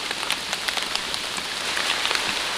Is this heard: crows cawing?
no